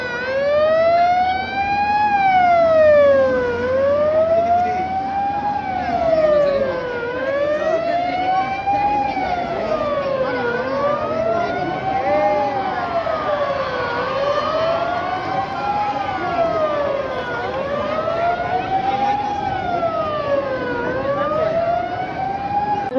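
An ambulance siren wails continuously during a fire service training drill for school students, its pitch sweeping up and down in a steady repeating cycle. It is loud and close, and no voices are heard over it.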